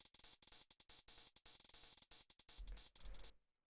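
Closed and open hi-hats from a drum rack tick out a fast footwork beat, crisp and close. A low thump enters near the end before the sound cuts off abruptly.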